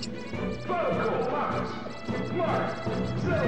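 Down smash attacks in Super Smash Bros. Melee land as punchy impact hits over busy game sound and a steady crowd murmur, with commentators talking over the action.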